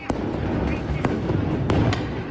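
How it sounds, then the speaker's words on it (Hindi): Stun grenade blasts fired by police to drive back a crowd during a street clash, sharp explosive cracks breaking through a dense, loud roar of crowd noise and commotion. "इन लोगों को पीछे खदेड़ने के लिए पुलिस की तरफ से धमाका करने वाले ग्रेनेड का इस्तेमाल किया गया।"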